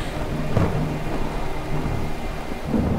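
Heavy rain pours steadily while thunder rumbles low underneath, with a louder crack early on and another near the end, no voices present.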